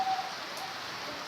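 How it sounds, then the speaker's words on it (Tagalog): Steady rain falling, a soft continuous hiss throughout with no voices. "Yun guys, umuulan."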